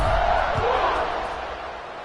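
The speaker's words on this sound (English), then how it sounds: "this crowd is buzzing after that last score" A football stadium crowd roars and buzzes after a touchdown and extra point, a loud, dense wall of cheering that holds steady and then eases slightly.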